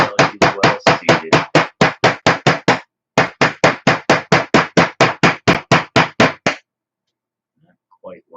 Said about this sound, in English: A little tiny hammer, so this will work. And gently give her some tap until she's well seated.